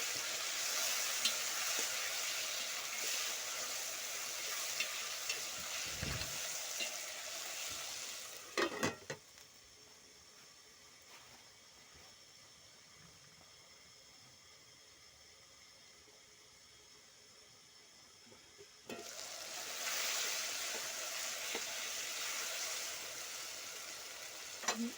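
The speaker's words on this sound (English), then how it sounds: "We stir our mixture." Mutton and rice mixture stirred in a hot pan, bursts of loud sizzling and scraping separated by a long quieter stretch of faint frying.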